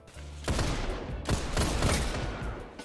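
Gunfire in a shooter video game duel: a burst of sharp, loud shots in quick succession, several distinct cracks with rapid fire between them, close and dominant.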